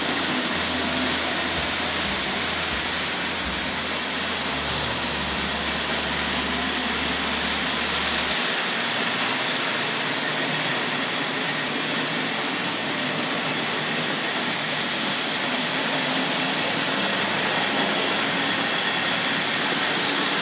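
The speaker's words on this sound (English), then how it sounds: "Railway children train just coming in, bottom of the shot there." Tri-ang Hornby Railway Children model train running on an exhibition layout, a steady low rumbling whir that continues throughout at moderate level, with a constant hum and no talk.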